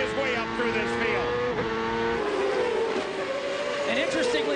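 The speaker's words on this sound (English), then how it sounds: "Andretti from 2nd place goes screaming into the lead, comes down inside of Franchitti" CART Champ Car race cars at Milwaukee in 1999, engines screaming continuously at high revs with overlapping cars, loud and steady, with a commentator talking excitedly over the roar.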